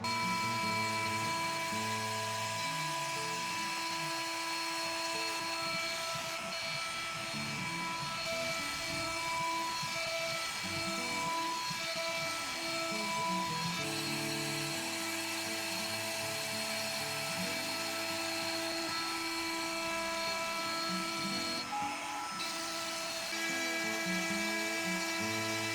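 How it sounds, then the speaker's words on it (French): A woodworking router fitted with a 6 mm bit cuts an MDF jig for the rosette of a Pink Ivory FE18 guitar, a loud, steady high-pitched whine with shifting tone that runs continuously throughout. "On va profiter que la fraise de 6 est montée pour se faire un petit gabarit en MDF"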